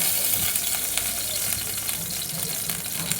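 Sieved ghee goes into a pan of halwa and fries, giving a dense, continuous sizzle with light stirring scrapes, loud and close with no talking over it.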